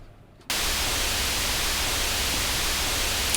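White noise pushed through an Ableton OTT multiband compressor rack, a dense, even, full-range hiss that switches on abruptly after a brief quiet start and holds loud and unchanging.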